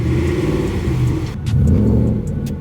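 A 2015-2020 Ford F-150 with the 5.0 Coyote V8 and long tube headers revs loud and close, its deep throaty exhaust swelling briefly mid-burst before settling back.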